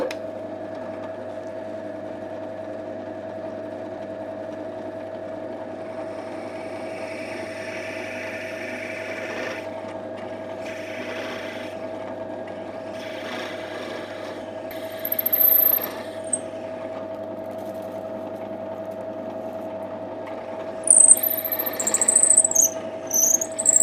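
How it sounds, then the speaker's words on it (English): A machine hums steadily for a long stretch while a drill bores a hole into the end of a pen blank, biting in with a few rougher grinding bursts and a squeal near the end. "We've now drilled the hole in the end of the blank."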